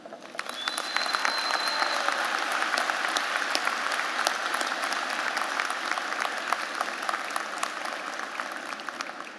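A commencement ceremony crowd gives the keynote speaker a long round of applause, dense and steady clapping that fills the hall evenly from start to finish with no voices over it.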